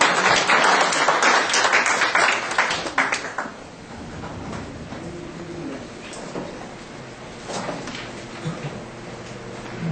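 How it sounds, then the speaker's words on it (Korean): A workshop audience at a Korean research group's meeting claps to welcome the group's director, loud and full for the first few seconds before the applause thins and fades into scattered claps and room noise. "박수로 환영해"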